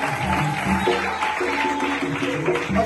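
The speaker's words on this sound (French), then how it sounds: "Est-ce qu'on peut acclamer pour le Seigneur?" A congregation at a wedding blessing applauds and cheers for the Lord, a short burst of steady clapping and voices with rhythmic, faintly musical tones beneath.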